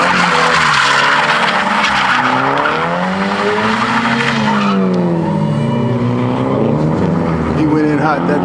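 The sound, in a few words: drifting car skidding, tires squealing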